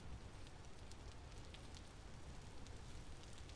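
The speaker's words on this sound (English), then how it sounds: "Why is it raining, game?" In the video game Vintage Story, a steady hissing rain fills the scene with a dense, even wash of patter and scattered crackly drops, fairly quiet and unbroken by talk.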